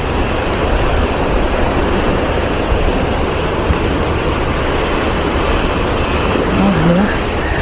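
Sea waves wash onto a beach in a steady, continuous broadband roar that fills the scene, with faint background activity mixed in and no clear voices over it.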